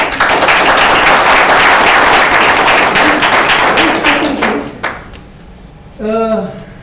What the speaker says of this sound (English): give yourselves a very good round of applause